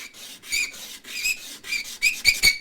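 Rasping sandpaper strokes flatten the bridge of a Martin HD28 acoustic guitar, a close, steady series of scratchy rubbing passes that quicken and grow sharper toward the end.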